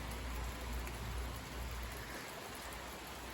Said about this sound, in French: et là il pleut encore